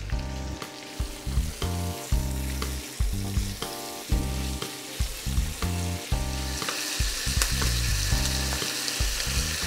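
Onions and small lardons sizzle in a pan over high heat, a loud continuous fry overlaid by a repeated rhythmic pattern of tonal, music-like sounds throughout, with no speech.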